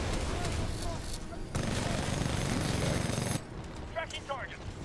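Gunfire in the Titanfall 2 video game, dense and loud bursts layered over continuous battle noise, with a brief pause before heavy firing resumes and then drops to scattered shots and whizzing effects.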